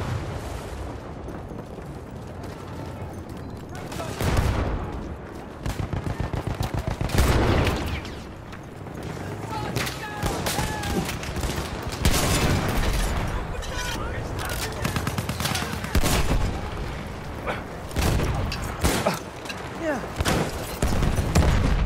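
Artillery fire in the Battlefield 1 video game during a Rush defence on the Giant's Shadow map: repeated heavy booms and crackling gunfire roll on continuously, with several louder impacts standing out from the dense battle noise.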